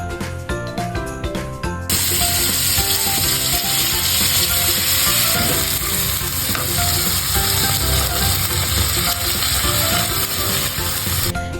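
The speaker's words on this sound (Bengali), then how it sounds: "এর ভিতরে আগে থেকে মেরিনেট করে রাখা চিংড়ি মাছগুলো দিয়ে দিন" Marinated prawns dropped into leftover oil after mushrooms were fried, for chowmein, sizzle loudly; a burst of crackling begins about two seconds in and holds as a steady, dense, close frying hiss with faint clinks of utensils.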